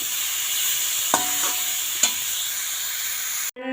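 Cabbage cooks in a pan with a close, constant sizzle, broken by two quick scraping stirs and a sharp clatter just before the end.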